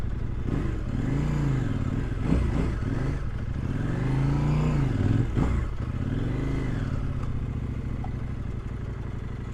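A KOVE 800X adventure motorcycle riding a washed-out, rutted dirt road, its engine note rising and falling in repeated surges of throttle, with rattling and scraping from the rough ground, close and continuous.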